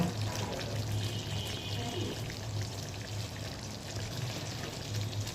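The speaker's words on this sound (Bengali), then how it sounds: "অল্প করে একটু কাঁচা তেল দিয়ে দেব।" Raw oil poured into simmering chhana bora gravy, a faint steady trickle and bubbling simmer heard softly throughout with no break.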